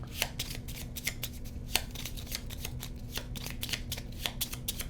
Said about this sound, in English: I'm going to give this a good shuffle.